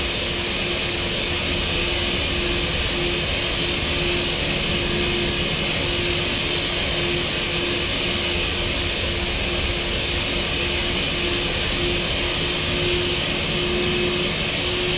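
A Xian Y-20 jet airliner on final approach in the Roblox game Aeronautica gives a steady, unbroken engine roar with a high whine and a faint constant tone on top, loud and even throughout with no voices.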